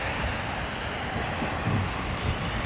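Strong wind buffets the microphone near the runway at London Heathrow Airport during heavy snow, a dense, continuous roar with gusty swells and no voices.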